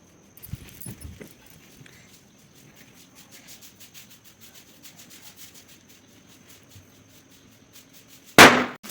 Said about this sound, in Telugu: క్రాకర్స్ కాలుస్తాం అన్నమాట.